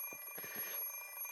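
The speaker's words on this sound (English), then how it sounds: "The alarm clock is deaf to my complaints." An alarm clock rings in the Fate/Stay Night visual novel, a steady electronic ringing heard alone at low level through the short moment.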